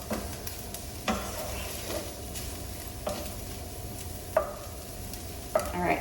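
Sausage and flour cooking together in a pan for sausage gravy, a low steady sizzle with a spoon scraping and tapping the pan every second or so.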